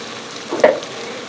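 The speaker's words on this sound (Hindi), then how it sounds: "इससे हम कलर चेंज होने तक भून लेंगे" About 2 kg of beef, added with garlic-ginger paste, frying in a pot for Pakistani-style biryani, a steady sizzle with a brief louder stir burst partway through.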